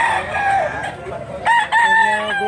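A large rooster at a market crows loudly and nearby in two bursts, its harmonic calls rising over faint crowd murmur.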